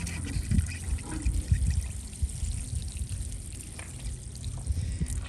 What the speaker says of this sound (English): gonna water that in as well.